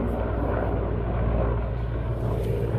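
A helicopter, heard from an old train travelling between Dire Dawa and Shinile, gives a continuous low droning roar that holds loud and steady throughout, with no voices over it.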